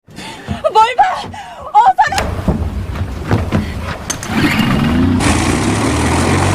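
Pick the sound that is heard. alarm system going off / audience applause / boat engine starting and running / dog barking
boat engine starting and running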